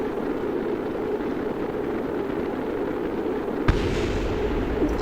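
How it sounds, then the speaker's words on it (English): A constant low rumble with a sudden sharp blast partway through, followed by heavier booming noise, like explosions in Kerbal Space Program. "I'm hearing multiple explosions."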